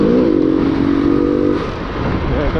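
A motorcycle engine revs hard with a rising whine, then drops back to a rough, clattering idle.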